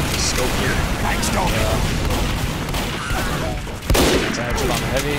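A sniper rifle fires a headshot on a heavy in a shooting video game, a sharp loud crack amid dense gunfire and explosions, with a voice talking over the action.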